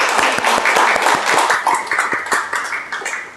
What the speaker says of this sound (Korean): 최장혁 대표님 박수